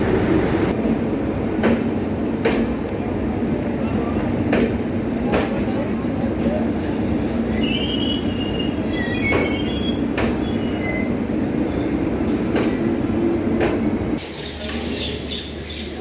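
Train pulling out of Gorakhpur Junction after a long delay, with a steady rumble of rolling wagons and high wheel squeals rising over it, clicks of the rails recurring, loud and close throughout.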